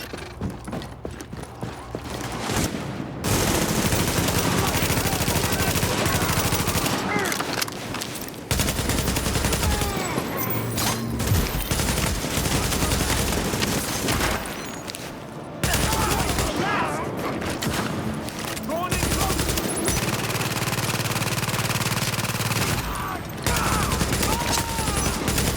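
Heavy gunfire rattles through a firefight in The Division, loud bursts of automatic fire and shots hammering in long stretches, broken by brief quieter gaps, with short spoken lines in between.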